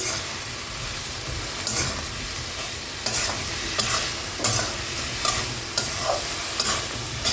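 Spice paste for a soybean and potato curry fries in a pan while a spoon stirs it, giving steady close sizzling broken by regular scraping strokes and no talk.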